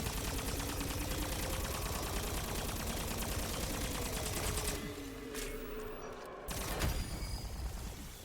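Rapid gunfire rattles continuously in Black Ops 6 Zombies, a dense loud stream of shots with brief pauses near the end and no talk over it.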